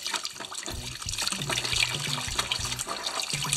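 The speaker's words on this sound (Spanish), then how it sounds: "Simplemente coloco el reel bajo el agua" A fishing reel used for sea kayak fishing is rinsed under a running tap to wash off salt, giving a steady close splash of flowing water with small clattering and gurgling shifts as the reel moves in the stream.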